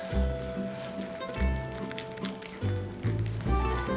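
Spinach and ricotta mixture with flour being mixed together by hand in a bowl for gnudi: soft, wet squishing and stirring strokes in a steady, repeating rhythm, close and moderately loud.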